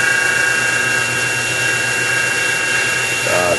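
A drill bores through plywood and stock with a bit of about 0.485 inch, a loud, steady whine running unbroken from start to finish.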